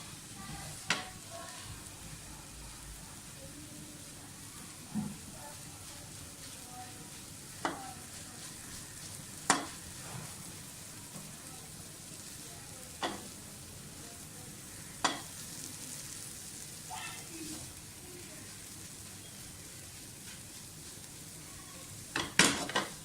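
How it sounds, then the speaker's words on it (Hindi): Besan and egg halwa roasts in desi ghee with a soft, steady sizzle, broken every few seconds by a sharp scrape or clink of the spoon against the pan, close and quiet with no speech. "थोड़ा सा और इसको भूने ताकि इसका घी ऊपर आ जाए।"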